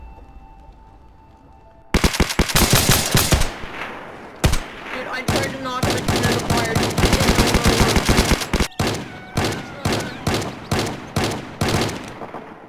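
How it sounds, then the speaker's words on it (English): Dense bursts of rapid gunfire and explosions in the video game Project Zomboid, loud and nearly continuous, with a voice talking briefly over the shooting. "There was so much gunfire, I could barely hear myself think."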